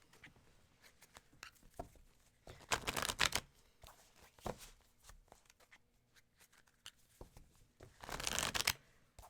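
Papery shuffling and riffling of tarot cards in bursts, louder around the middle and near the end, with quiet pauses between.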